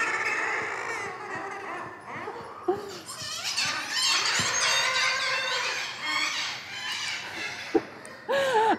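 A group of birds calls noisily, with overlapping squeals, squawks and clucking chatter that continues throughout, with a few sharp splashes or knocks, at moderate distance and fairly quiet.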